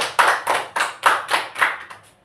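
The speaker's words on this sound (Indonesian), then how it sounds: "Bisa kita kasih tepuk tangan." Hands clap for a school group's cultural podcast presentation: about seven distinct, evenly spaced claps, close and fairly loud, slowing and fading at the end, with no talking.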